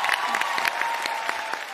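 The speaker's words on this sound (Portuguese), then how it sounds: "Uma salva de palmas para o time do Marcos Veras." Studio audience clapping for Marcos Veras's team on a Brazilian TV game show, dense sustained applause filling the whole short moment.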